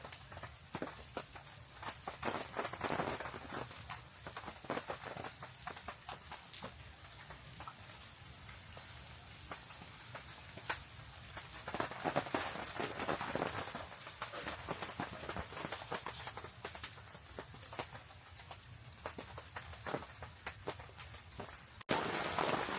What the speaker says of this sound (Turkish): Yağmurun sesine bak ne güzel.